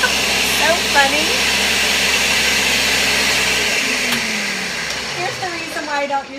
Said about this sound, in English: My little blender would just do this right up and I would never ever have to scrape the sides.